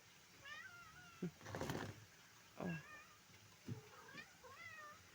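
A cat meows repeatedly, several drawn-out plaintive cries spaced a second or so apart, fairly quiet against a soft background hiss with some rustling.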